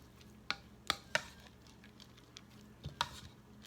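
Grated cheese and pimento are stirred together in a bowl, giving a few soft, wet squishing knocks spaced irregularly against a quiet background.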